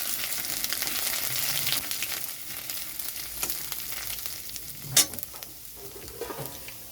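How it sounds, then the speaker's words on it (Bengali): Radhuni, dried chilli, bay leaf and ginger sizzle in hot oil in which bitter gourd was just fried, a steady close hiss broken by stirring scrapes and one sharp clink, with no talk. "ওই তেলের মধ্যে আমি দিয়ে দিচ্ছি রাঁধুনি, দিয়েছি শুকনো লঙ্কা, তেজপাতা, আদা।"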